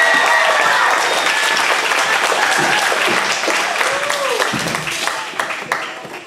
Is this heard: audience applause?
yes